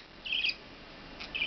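A budgie gives two brief, high chirping squawks, close and fairly clear, separated by a short quiet gap.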